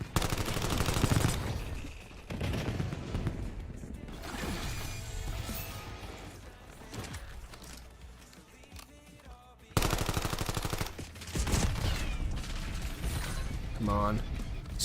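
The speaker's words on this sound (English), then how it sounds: "Ah, two people shooting at me." Call of Duty Black Ops 7 gunfight with rapid automatic bursts and sharp shots, loud and dense with brief pauses, mixed with mechanical clatter and a voice talking over it.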